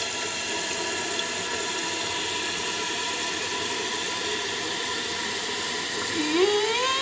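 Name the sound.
toilet tank filling with water through new fill valve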